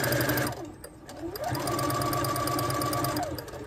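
A sewing machine stitches a fabric scrub cap, its motor running fast and close with a steady rapid mechanical rattle, briefly slowing then speeding back up.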